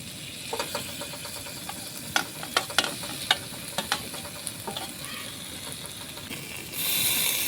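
A paste of tomato, spices, cashew and poppy seed frying in a pan gives a soft continuous sizzle, punctuated by several sharp spatula knocks and scrapes as it is stirred.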